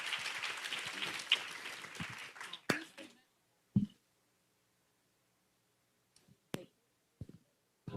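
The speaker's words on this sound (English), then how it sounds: "Let's give a round of applause to our speakers." Audience applause for panel speakers at a tech summit on AI and data science, a brief, moderately loud burst of clapping that fades after about three seconds, followed by a few isolated clicks and thumps in near silence.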